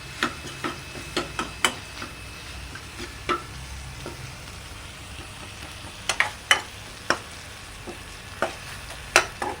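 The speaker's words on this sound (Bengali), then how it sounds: "আদাটা একটু ভাজা ভাজা হয়ে গেলে এর মধ্যে আমি হলুদ গুঁড়োটা দিয়ে দেবো।" Ginger fries with turmeric powder in a pan, giving a soft steady sizzle broken by sharp spatula scrapes and taps, scattered at first and then clustered near the end.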